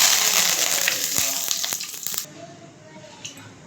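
Mustard seeds, a little fenugreek and curry leaves splutter in hot oil, a loud hiss crackling with sharp pops that abruptly dies down midway, leaving a quieter sizzle and a few stray crackles.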